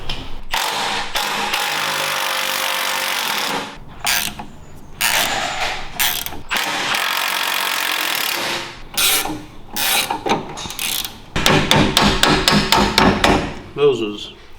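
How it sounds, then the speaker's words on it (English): Metal-on-metal hammer blows and scraping ring out as seized bolts are beaten out of the shocks on a budget side-by-side UTV, in bursts of rapid strikes with grinding and rattling between them, with no talk. "Now I just got to beat them bolts out, get the shocks off."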